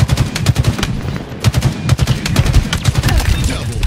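S7 sniper rifle fire in a video game, a loud rapid string of sharp shots in clusters over a busy game soundtrack.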